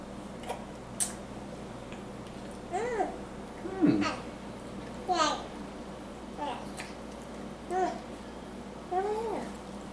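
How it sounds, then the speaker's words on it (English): A house cat meows several times at a modest distance, short rising-and-falling calls spaced a second or two apart, while a young child babbles in a quiet room. "You hear the cat?"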